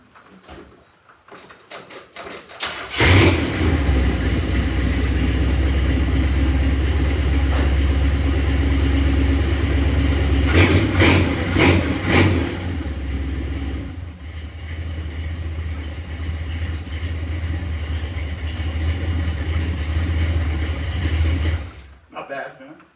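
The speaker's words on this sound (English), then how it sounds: "So I'm going to start my car up for Jeff." A 1972 Chevrolet Caprice four-door hardtop with a 400 cubic inch small-block V8 cranks and fires into a loud rumbling idle, then gets several sharp revs before settling back to a steady idle and shutting off.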